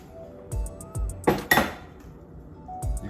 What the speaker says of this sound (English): I'm gonna crack those eggs